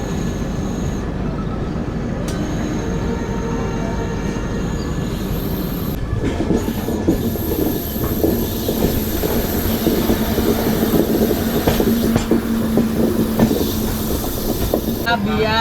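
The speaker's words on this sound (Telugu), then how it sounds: "బయలుదేరిపోయింది మన ట్రైన్." The Agartala Express, train 15664, pulls out of New Karimganj station with a steady rolling rumble of wheels and carriages, then a sustained wheel squeal as it gathers speed.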